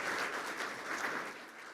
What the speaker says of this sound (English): We can give you a round of applause as well.